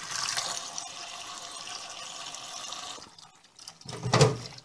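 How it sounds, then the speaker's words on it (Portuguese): Water pours into a cooking pot in a home kitchen, a steady close splashing stream that thins out, followed by a brief clank of the pot. "Aí eu vou colocar aqui um pouco de água."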